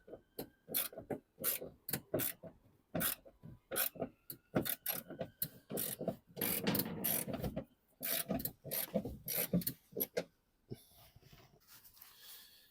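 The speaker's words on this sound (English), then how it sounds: "we are going to remove that bolt here and the one bolt this side" A hand ratchet clicks in quick bursts as it backs out the tail lamp bolts on a 2011 Ford Mondeo, faint and close, with short pauses between runs of clicks.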